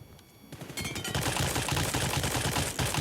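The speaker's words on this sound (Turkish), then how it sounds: "Şimdi son bir M4 atalım." M4 rifle fire in the mobile game PUBG Mobile: a dense, continuous automatic volley of rapid shots, loud and close, starting after a brief lull and running steadily to the end with no voices.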